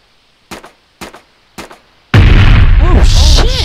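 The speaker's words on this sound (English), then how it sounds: "It's gonna explode." Three sharp gunshots ring out about half a second apart at a gas tank, followed by a loud, sustained explosion roaring close by with shouting voices over it.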